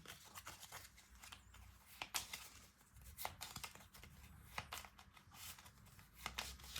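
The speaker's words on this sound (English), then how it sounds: "Give them a bit of a shuffle." Cards from the Wingspan board game being shuffled by hand at a tabletop during solo play, a run of soft, quiet riffles and taps heard close up.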